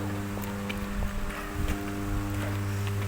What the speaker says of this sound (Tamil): எதுனா அது வந்து பார்த்திங்கன்னா கரண்ட் ரன் ஆகிற சத்தம்னு சொன்னாங்க